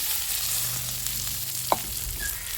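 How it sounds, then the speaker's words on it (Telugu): Green chillies fry in oil with a continuous close sizzle, with a single sharp pop or clink partway through. No one speaks. "ఇప్పుడు ఇందులో ఆయిల్ వేసుకొని మనం పచ్చిమిర్చి వేయించుకుందాం."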